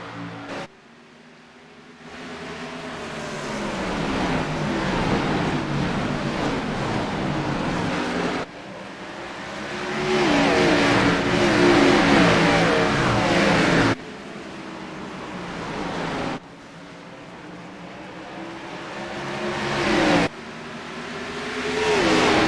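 Several race cars roar through the first green-flag lap at Richmond in a stock-car racing video game, a continuous loud engine drone that rises and shifts as the pack passes, broken by a few abrupt cuts.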